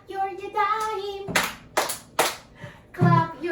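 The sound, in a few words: hands clapping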